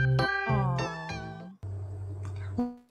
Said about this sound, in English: I know the cat's scared, but I love talking cats. I love when they talk.